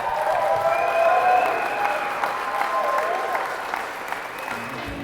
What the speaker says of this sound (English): give a round of applause to Stu for what he's done today.